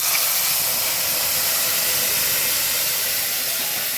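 Ground masala paste hits hot garlic tempering for a raw mango kadhi, giving a steady, loud, broad sizzling hiss that continues unbroken throughout with no talking.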